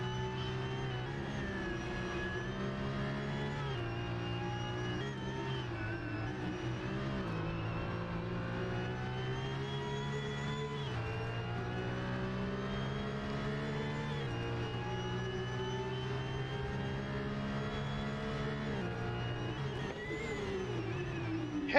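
Onboard a Porsche Cup race car lapping Circuit of the Americas, a loud, continuous engine howl rises and falls as the revs climb and drop through repeated gear changes, with no talking.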